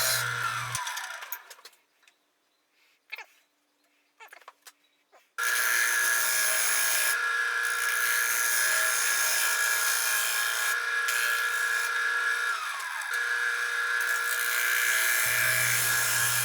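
Wood lathe shaping the bottom of an epoxy resin and wood bowl: a brief low hum, then near-silence with a few short scraping bursts, followed by a long steady high-pitched whine of cutting that holds for about eleven seconds.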